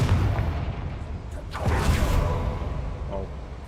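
A Confringo blasting spell erupts in Hogwarts Legacy, a deep booming explosion with a rushing burst near the middle, heavy low rumble throughout, and a voice speaking over the game sounds.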